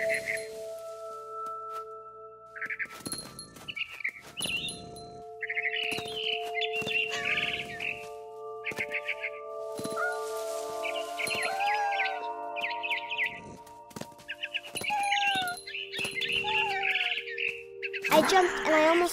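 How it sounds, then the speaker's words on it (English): Bright, quick barn swallow chirps and tweets in the game What Remains of Edith Finch come in scattered bursts over a quiet backdrop, with a faint steady tone beneath. "I heard chirping outside my window. It was a barn swallow going back to her nest."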